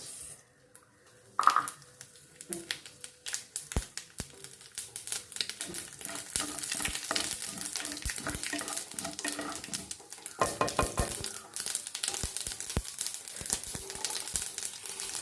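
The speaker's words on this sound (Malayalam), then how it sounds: "നല്ലെണ്ണ ഒഴിച്ചു കൊടുക്കാം അതൊന്ന് ചൂടാവട്ടെ ഇതിലേക്ക് കടുക് ഇട്ട് കൊടുക്കാം" Mustard seeds dropped into hot sesame oil in a pan start popping and crackling, beginning sparse and building into a dense, rapid run of sharp close pops alongside occasional utensil clinks.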